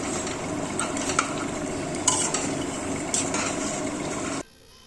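Meat being kosha-style stir-fried in a pan with a splash of hot water gives a steady, close sizzle, with the spoon scraping and stirring through it, before the sound cuts off abruptly near the end.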